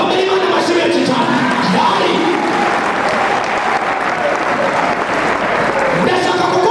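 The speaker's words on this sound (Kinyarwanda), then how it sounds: "Komera Imana amashyi menshi cyane." A church congregation at a prophet's service applauds loudly and continuously for nearly seven seconds, dense clapping mixed with shouts and whoops from the crowd.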